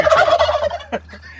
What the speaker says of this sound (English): I'm going to eat you too, turkeys.